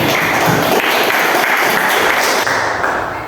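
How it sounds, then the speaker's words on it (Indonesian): A middle-school classroom of students claps for a classmate named Aidil during a religious studies lesson, giving a short burst of loud, dense applause that tapers slightly at the end. "Tepuk tangan untuk Aidil."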